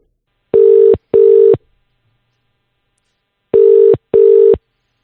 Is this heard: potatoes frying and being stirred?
no